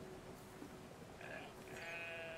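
Sheep bleat in Brothers: A Tale of Two Sons, a couple of short, nasal cries breaking over a soft game background, fairly close and clear with no talk.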